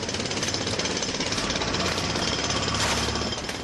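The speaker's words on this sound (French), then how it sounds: "Dans la matinée, les marteaux-piqueurs entrent en action." Jackhammers breaking up paved street cobblestones in the morning, a loud, dense, continuous rapid hammering that fills the whole stretch with no pauses or voices.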